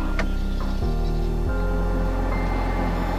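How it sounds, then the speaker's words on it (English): Air-conditioning fans run inside a BYD Dolphin electric car, giving a steady close whirring hum that shifts to a different level twice early on and then holds evenly throughout. "What you hear now is the sound of the fans from the air conditioning system."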